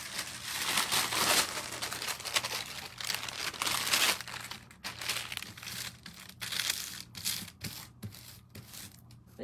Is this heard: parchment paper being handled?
yes